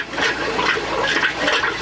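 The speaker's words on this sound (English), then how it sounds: "Pull that handle forward, get some water going down in there." A retro 15-foot camper trailer's toilet flushes with a steady, close rush of water pouring down into the bowl, continuous and fairly loud throughout.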